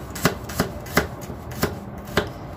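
Young papaya is chopped on a board, six crisp knife strikes at an even, unhurried pace, each a short clean thud.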